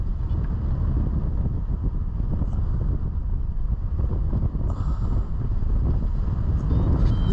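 Wind buffets the microphone during a flight over the Vercors, making a loud, steady rumbling roar that lasts the whole time with no talking.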